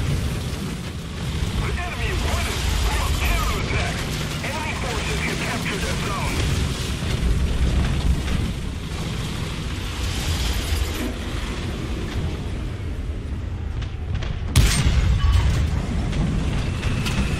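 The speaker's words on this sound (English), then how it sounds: "There's bombs coming in." Bombs exploding across a War Thunder tank battle, heavy rumbling blasts and booms under constant battlefield noise, with one sharp loud detonation near the end.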